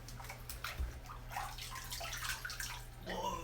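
Cold water rinses and splashes in a bathtub, a soft close wash of running and sloshing water with a faint low hum underneath.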